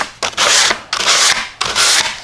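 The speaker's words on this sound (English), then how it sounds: "Just gonna gently sand the top just a tiny bit to" Three long, loud strokes of sandpaper rubbing across wood, each a harsh scratchy rasp separated by brief pauses, close up.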